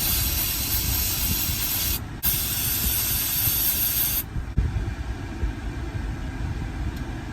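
Cleaner sprayed from a can onto a Honda car part, a loud close hissing burst that breaks off briefly, resumes, then gives way to a quieter lingering rustle, with no talking.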